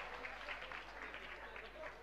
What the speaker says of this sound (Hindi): तालियां बजाकर एक बार अनुमोदना कर दें सभी साथी लोग